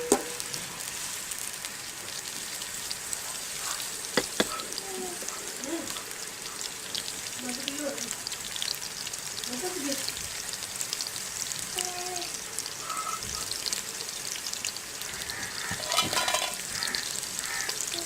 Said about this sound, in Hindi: प्याज को हम ब्राउन होने तक भूनेंगे